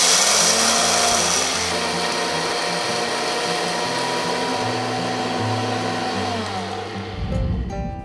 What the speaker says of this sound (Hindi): अब इस दाल को हम मिक्सी में ग्राइंड कर लेंगे।